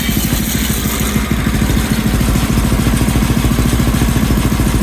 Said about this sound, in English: Seems to be idling pretty good.